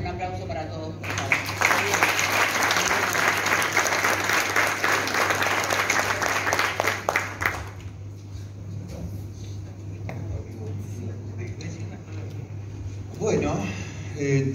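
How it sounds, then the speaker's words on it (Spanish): Audience applause at the close of a mental health congress, a steady roar of clapping lasting about seven seconds before fading, followed by a speaker's voice continuing over a low hum. "un aplauso para todos, por favor."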